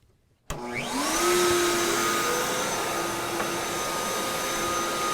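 A Bosch RA1181 benchtop router table with dust collection attached switches on half a second in with a sharp start, spins up through a rising whine, then settles into a loud, steady motor roar and suction hiss.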